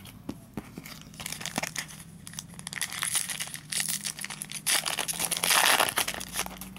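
Pokemon XY Primal Clash dollar store card packs are torn open up close, with crinkly foil tearing and crumpling that builds into louder ripping bursts toward the end.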